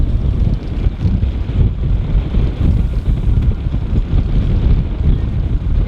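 Strong wind buffets the microphone in uneven gusts at a marina in Georgetown, a loud low roar that swells and dips throughout with no voices.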